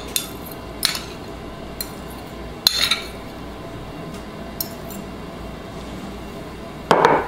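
Fork stirring flour, salt and yeast in a bowl, sparse light clinks and scrapes of metal against the bowl at irregular intervals, with a louder clatter at the end.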